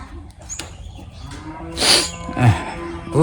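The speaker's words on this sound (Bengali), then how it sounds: "ওইখানে আমার গরু রাখা আছে।" A cow kept at a rural homestead lets out a couple of loud, drawn-out moos close by, the second rising sharply in the latter half of the clip over a low background.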